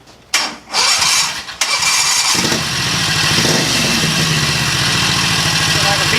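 A Chinese 670cc long-travel UTV engine cranks with a few short bursts, catches, and settles into a loud, steady rumbling idle close by; a person's voice is briefly heard around the start.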